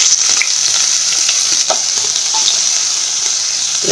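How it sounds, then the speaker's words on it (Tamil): Small onions sauté in sesame oil, a constant close sizzle and crackle with occasional stirring scrapes and no voices. "லைட்டாக வதக்கி விட்டுக்கோங்க"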